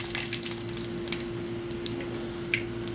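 Mustard seeds fry in hot oil on a stove for a coconut-based mackerel curry, giving a steady low sizzle dotted with scattered sharp crackling pops, some close and bright.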